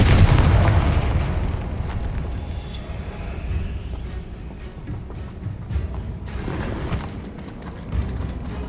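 A Confringo fire spell bursts with a loud, booming explosion in Hogwarts Legacy, its heavy low rumble decaying over several seconds, followed by scattered crackles and a second smaller burst near the end.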